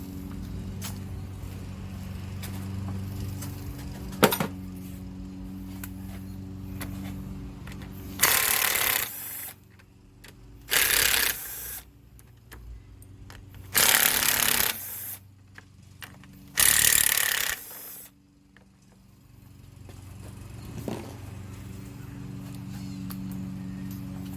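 Four 5/16 bolts come out of the top of a Briggs and Stratton V-Twin engine on a Husqvarna mower, heard as four loud bursts of whirring power-tool driving, each a second or two long, separated by quieter pauses.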